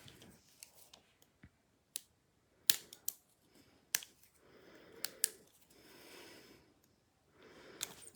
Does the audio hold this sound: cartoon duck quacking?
no